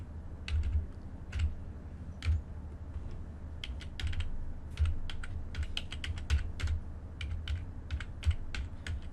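Typing on a computer keyboard: irregular bursts of close, crisp key clicks with short pauses between runs, over a quiet low hum and with no talk.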